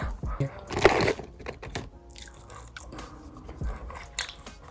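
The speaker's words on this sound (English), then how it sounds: "You gotta eat the fries first before you dig in the main meal." Close, crunchy bites and chewing of fries, irregular crisp snaps and mouth noises with brief pauses in between.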